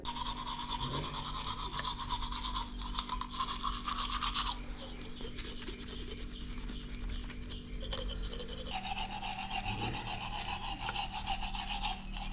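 A toothbrush with toothpaste scrubbing teeth up close, rhythmic rasping strokes that continue steadily and shift in tone partway through, with no talking.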